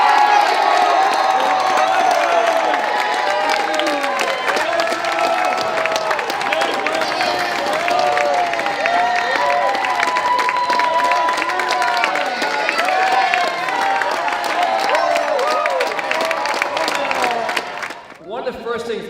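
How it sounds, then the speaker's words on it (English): A large high school gymnasium crowd at a pep rally applauds and cheers continuously and loudly, with whoops and shouts over dense clapping, fading out at the end. "Give them another round of applause."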